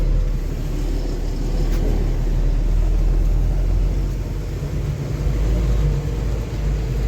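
A car rolls slowly into a rest area on a rain-soaked highway roadside, its engine a steady low rumble with tyre and road noise over the whole stretch and no talk.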